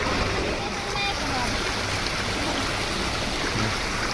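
A stream running full after heavy night rain, a dense steady rush of water heard close and loud throughout with faint voices beneath.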